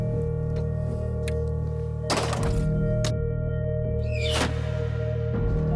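A Scorpio ballista loosing shots, heard as a few sharp thunks and a harder crack spaced a second or two apart over a loud, steady low hum.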